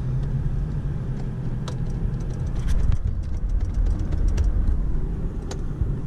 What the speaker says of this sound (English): it sounds so good now that I got the exhaust fixed